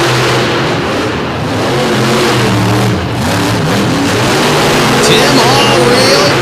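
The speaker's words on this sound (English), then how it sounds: "Tim Hall really pushing that truck" A monster truck engine roars and revs hard during a race at a DuQuoin, Illinois monster truck show, loud and sustained with rising pitch sweeps, while a commentator talks excitedly over it.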